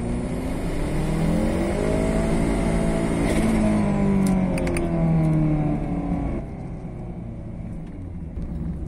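A turbocharged car with a dual-stage boost controller pulls hard in second gear at about 8 psi of boost, its engine note climbing loud and close for several seconds before the revs drop away.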